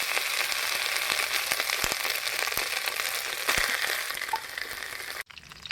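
Mutton fat hitting a hot pot with cardamom pods and cloves, dry cooking without oil, crackling and sizzling steadily at close range with scattered pops, then cutting off abruptly near the end.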